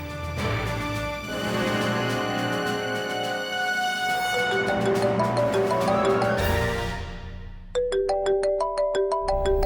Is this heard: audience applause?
no